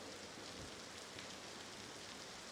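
Steady rain pours through a night-time city alleyway as story ambience, a dense, even hiss of drops on hard surfaces filling the background without a break.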